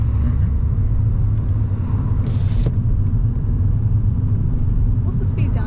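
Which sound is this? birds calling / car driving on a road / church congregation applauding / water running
car driving on a road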